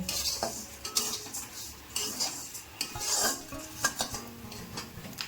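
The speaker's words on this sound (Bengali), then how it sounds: "শুরু করে দিলাম চিড়ি ভাজতে" Flattened rice (chira) is fried and stirred in a pan, heard as repeated close scraping and clinking of a utensil against metal with a light crackle underneath, no talking.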